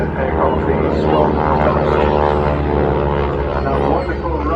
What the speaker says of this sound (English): a wonderful rasping roar that is coming from the front end of the Purple with the radial engine